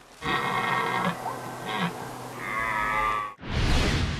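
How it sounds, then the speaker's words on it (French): A red deer stag bellows during the September rut: a few long, deep, drawn-out roars from fairly close by, followed by a short burst of rough noise at the end. "pour immortaliser le brame du cerf"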